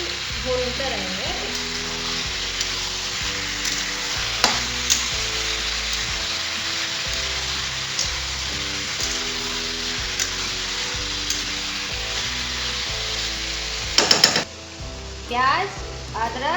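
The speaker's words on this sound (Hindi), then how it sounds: "इसको थोड़ा देर ऐसे ही भूनते रहेंगे।" Chicken for curd (dahi) chicken curry sizzles steadily in a pan, loud and close, while being stirred, with occasional clinks of a utensil against the pan.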